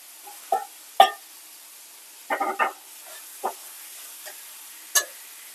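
Fried pointed gourd going into spice paste in a pan, heard as a faint sizzle under scattered scraping and clinking stirs, some single and some in a quick cluster, close but quiet.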